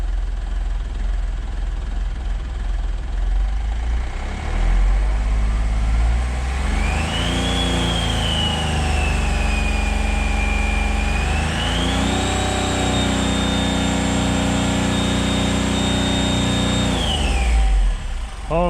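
Smart Fortwo diesel engine with a turbo cartridge idling steadily and loudly up close, with a turbo whistle rising and falling in pitch across the middle of the stretch before settling back to idle.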